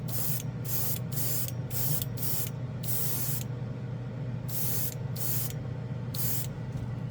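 A $40 airbrush sprays enamel paint in a series of short hissing bursts, about ten of them with brief gaps between, close and steady over a constant low hum.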